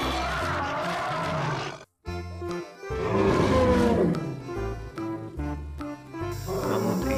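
A toy mammoth gives out loud, growling roars in several bursts with a short silent gap, set against bright background music.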